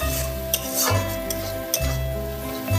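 Meat being stir-fried in a pan for Bengali kosha mangsho with ground cumin, a steady close sizzle with a spatula scraping and clinking against the pan in a few rhythmic strokes.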